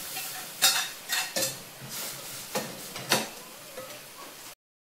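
A cowpea curry being tempered in a pan on a biogas (cow-dung gas) stove: a soft sizzle under a series of irregular metallic stirring clinks and scrapes, close by, before the sound stops abruptly.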